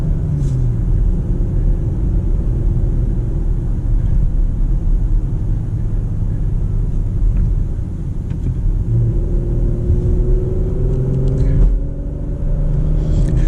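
A 2023 Porsche Macan S engine accelerates hard from inside the cabin, a steady loud rumble rising in pitch toward the end with a brief dip suggesting a gear shift.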